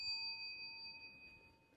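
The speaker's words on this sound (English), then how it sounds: "you'll hear my bell, and that'll be the signal to switch to the other person" A hand bell rung by a speaker at a weekend foundation event gives one clear, sustained ring with steady high overtones that fade slowly over about two seconds, faint and alone with no talking.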